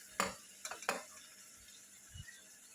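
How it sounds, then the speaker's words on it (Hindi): Chopped vegetables tipped into a hot pan over softened tomatoes for pav bhaji, heard as a few quick metallic clanks and scrapes of stirring, then a faint soft knock, with no talking. "अभी हम जो हमने वेजिटेबल्स लिए हैं उसको सब को इसमें डाल देंगे।"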